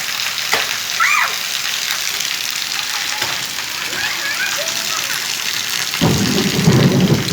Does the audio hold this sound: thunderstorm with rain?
yes